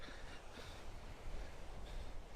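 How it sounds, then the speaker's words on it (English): Wind gusts steadily across an open seaside pier, roaring in a broad noisy wash that swells and eases, with a faint hint of surf beneath. "with this wind blowing, it's beautiful"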